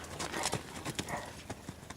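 Horse hooves thud and shuffle in an uneven rhythm as the animal moves around a pen, close and fairly loud, with a low outdoor rumble behind and no voices.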